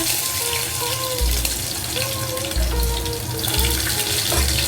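Garlic fries in hot oil in a pan with a steady, close hiss and sizzle, joined by occasional low clatters, and no one talking.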